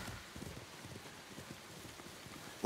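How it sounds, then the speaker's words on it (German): Horse hooves clip-clop in Ghost of Tsushima, a quiet, steady rhythmic patter of hoofbeats against a faint windy background, with a sharp louder knock at the very end. "Das ist ihr Pferd oder ist das unser Pferd?"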